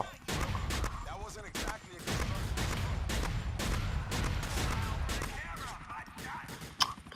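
Shotgun blasts in the GTA video game boom repeatedly at close range, dense and loud, mixed with game noise and excited talk from players.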